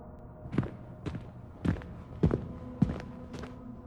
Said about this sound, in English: followed by heavy footsteps.